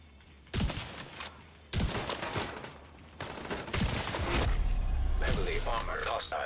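Bursts of gunfire in a shooter video game: several loud clustered volleys of rapid shots separated by short gaps, ending in a longer sustained stretch of firing.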